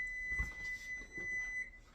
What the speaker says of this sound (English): Now I got both timers going off here.